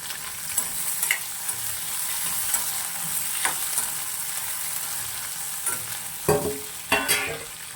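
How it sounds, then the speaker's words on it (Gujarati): Steady sizzling of capsicum (bell pepper) frying in a pan, with occasional scraping and clinks as a spoon stirs it. "આપણે કેપ્સિકમને પણ ફ્રાય કરી લઈશું"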